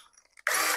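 A power drill boring a hole into a 5 gallon plastic bucket, a short loud whirring burst after a few faint clicks, close and alone.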